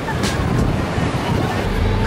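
Ocean waves wash steadily onto a beach, a continuous close surf roar mixed with wind buffeting the microphone.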